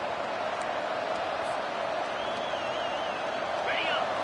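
Stadium crowd at a football game, a dense, constant roar of many voices filling the space at steady loudness, with a commentator speaking over it.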